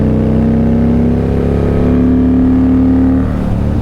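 A custom Indian Scout Bobber motorcycle revs hard and accelerates, its engine note rising steadily in pitch, loud and close, before easing off near the end.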